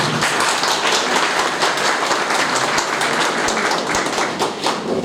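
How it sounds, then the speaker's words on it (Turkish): A large audience at an association's general assembly gives hearty applause for its founding chairmen, dense sustained clapping from many people, loud and even throughout. "onlara çok sağlam bir alkış istiyorum"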